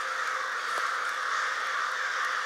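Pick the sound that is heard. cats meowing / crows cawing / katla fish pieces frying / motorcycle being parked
crows cawing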